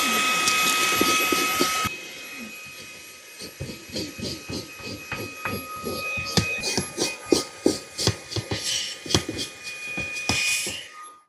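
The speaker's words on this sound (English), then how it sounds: "This is how I normally like to vacuum my car." A Fanttik Slim V8 Apex cordless vacuum cleans a car interior floor of crumbs and dog hair. A steady whir is followed by irregular, rattling clicks and bursts as debris is sucked up nearby.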